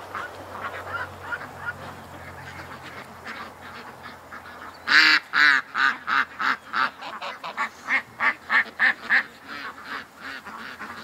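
Ducks quack and Canada geese honk in a noisy, rhythmic burst of repeated calls, close by and loud, after a quieter stretch of softer bird chatter.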